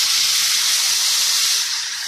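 Sauce hits a hot pan of sautéed ginger-garlic paste for veg Manchurian, letting out a loud, steady hiss that fades slightly at the end.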